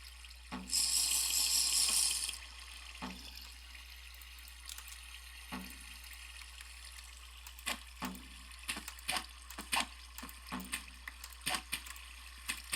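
Flowing water in Minecraft with the Advent of Ascension mod begins as a loud, bright rush lasting over a second. A string of short, scattered taps and clicks follows at moderate volume.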